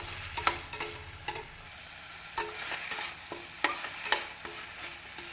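Tomatoes sautéing in oil in a kadai for a village-style brinjal kulambhu, with a steady soft sizzle broken by several sharp scraping and clinking stirs of a spoon against the pan.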